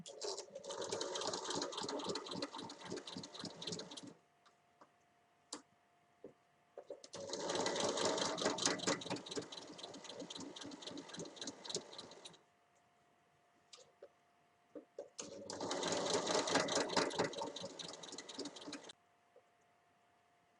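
A sewing machine stitches patchwork strips with a 0.5 cm seam allowance, running in three steady whirring bursts of several seconds each, separated by near-silent pauses, close and clear with no talking.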